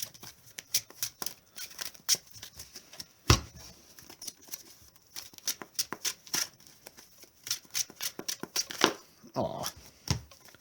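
Deck of Magic: The Gathering cards shuffled by hand, a run of quick riffling and snapping bursts in irregular clusters, close and fairly quiet, with brief pauses between.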